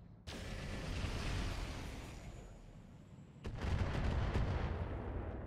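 Weapons volleys from battle mechs in the RogueTech BattleTech game, a heavy booming salvo rolling into sustained rumble, then a second louder barrage of cracking impacts and blasts; no voices.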